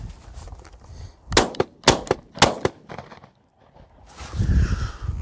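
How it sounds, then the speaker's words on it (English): An Akkar triple-barrelled shotgun fires three rapid shots, three loud sharp blasts about half a second apart with brief echoing tails, followed by quieter handling noise. "I'm going to have a go at shooting three shots in rapid succession"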